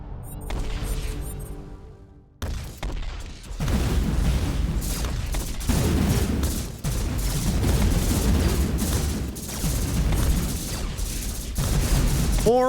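Missiles firing in the space strategy game Hyper Empire, a dense barrage of booming bursts and rumbling explosions layered one after another, loud and continuous after a quieter opening.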